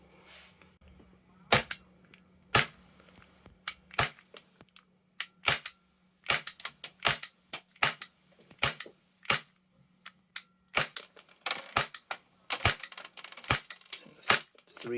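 A WE Galaxy G series airsoft pistol fires in sharp, rapid full-auto bursts of snapping cracks, close and loud, separated by brief pauses over a faint steady hum.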